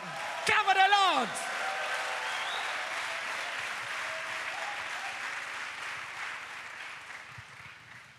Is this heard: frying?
no